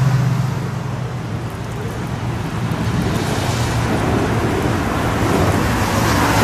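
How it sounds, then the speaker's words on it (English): A severe summer evening thunderstorm in Westbury delivers a continuous, loud roar of heavy rain with low rumbling underneath, steady and enveloping throughout with no voices. "That definitely is what I would call a severe thunderstorm."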